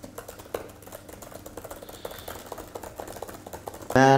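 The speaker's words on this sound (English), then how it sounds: "I want you guys to hear how crisp this keyboard sounds" Rapid, uneven clicking of keys being typed on an M1 MacBook Pro 13 laptop keyboard, close up, ending with a sudden burst of tonal sound.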